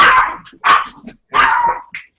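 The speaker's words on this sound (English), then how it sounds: "That's the dog in my avatar picture, by the way. That was barking." A dog barks close and loud three times in quick succession, each bark sharp and distinct with short gaps, ending with a small yip.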